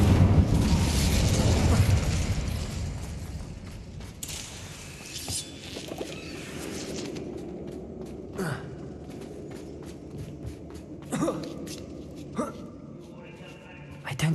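A fire spell cast in the video game Hogwarts Legacy bursts loudly with a roaring whoosh at first, then fades into scattered thumps and pops while someone talks over the game sounds.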